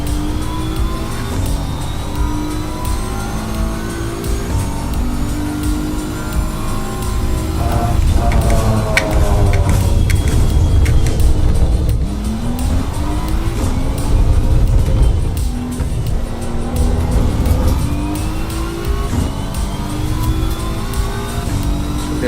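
A race car laps a track in the Assetto Corsa EVO racing game, its front-mounted engine droning loud and steady, revving up and down through gear changes with no talk over it.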